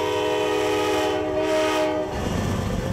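A South Shore commuter train heading toward Chicago sounds a long, steady horn blast close by, then the horn cuts off, leaving the rumble and rattle of the passing cars.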